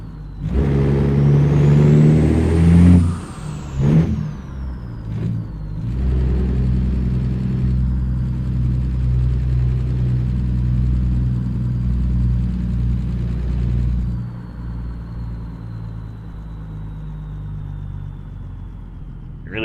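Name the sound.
truck turbo whine in American Truck Simulator video game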